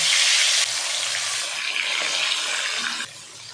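Marinated bata fish dropped into hot oil in a kadai gives a loud, steady, close sizzle and hiss that carries on evenly before easing off slightly near the end.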